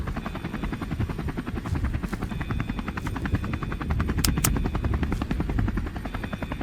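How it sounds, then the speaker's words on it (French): A video game helicopter's rotor thumps steadily and loudly throughout, a continuous rapid chopping drone with no voices. "Il est beau l'hélicoptère."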